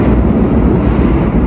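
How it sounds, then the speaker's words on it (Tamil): Steady, loud low rumble of a New York subway train running underground, heard from a hostel above, a continuous heavy roar with no breaks or voices. "இது வந்து கீழே அண்டர் கிரவுண்டில் அந்த சப்வே ஓடுற சத்தங்க."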